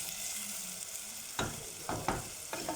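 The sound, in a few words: food browning and sizzling in a pan on a gas stove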